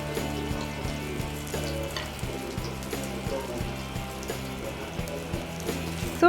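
Mackerel frying Goan style in oil over a low flame, making a continuous close sizzle with a regular rhythmic ticking or bubbling pulse beneath it, and no one talking.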